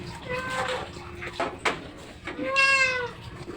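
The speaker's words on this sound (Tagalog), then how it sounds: "Ang ingay ng pusa." A cat meows loudly several times in a kitchen where paksiw is being cooked. The sharp, drawn-out cries are close and stand out over quiet background noise.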